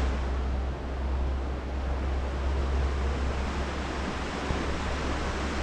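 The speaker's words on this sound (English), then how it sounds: "I'm next to the river. I just love river action" A river flows beside a hiking trail in Capitol Reef National Park, Utah, as a steady, unbroken rushing wash with some wind mixed in and no talking.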